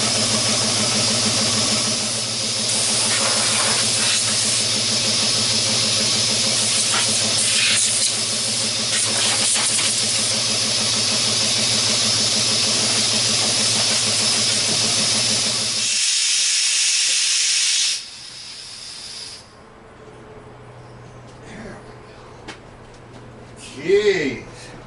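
Steam hisses loudly and steadily for about sixteen seconds from an open dump valve, then cuts off sharply, leaving a low mechanical hum and faint clanks, with a brief voice near the end.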